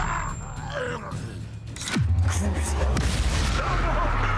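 An Expelliarmus spell cast in Hogwarts Legacy goes off in the middle as a deep booming impact with a falling whoosh, followed by a rumbling tail and a second, lighter burst, under grunting and battle noise.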